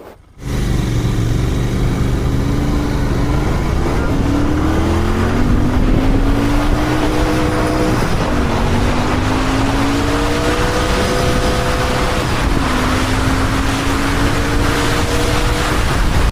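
A Royal Enfield Continental GT650 motorcycle engine on the highway, loud and close, revving up through the gears with rising pitch sweeps and brief drops between shifts, under steady wind noise.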